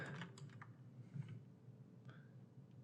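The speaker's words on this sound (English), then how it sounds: "Top fire will hit P on the keyboard." A single key press on a computer keyboard, followed by a few faint, quiet clicks and taps in an otherwise hushed room.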